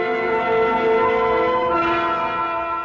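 A bell rings in an old-time radio detective drama, a sustained, resonant ringing tone that holds loud and steady for about three seconds with no one speaking over it.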